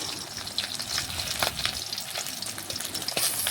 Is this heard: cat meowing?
no